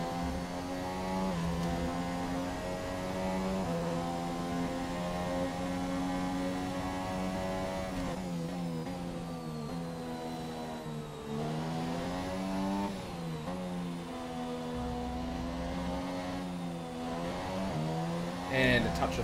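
Formula 1 car engine in F1 2017 qualifying, a high harmonic whine climbing and dropping through gear changes with short downshift blips, continuous and close, with a voice talking over it.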